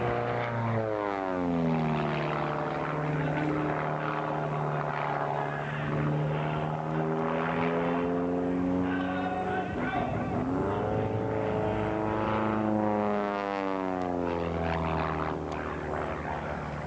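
A Stevens Acro aerobatic propeller plane flies nearby with a loud, steady engine drone whose pitch sweeps up and down as it maneuvers, continuous throughout.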